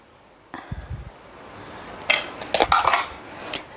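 Beaten eggs, about fifteen, mixed with turmeric, pepper powder, salt and coriander powder in a bowl for egg biryani, heard as irregular metallic clinks and scrapes of a utensil against the dish that grow busier toward the end.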